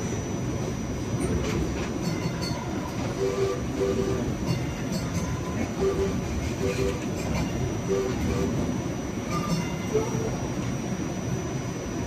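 A train pulling away on a Northern Pacific line, its steady rolling rumble and faint wheel clatter continuing throughout over dense outdoor background noise.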